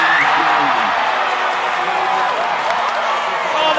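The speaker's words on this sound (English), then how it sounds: "Oh, the crowd have gone absolutely crazy." Samoan supporters roaring after a try in a rugby match at Sam Boyd Stadium in Las Vegas, a loud sustained crowd din that fills the clip, with a commentator talking over it.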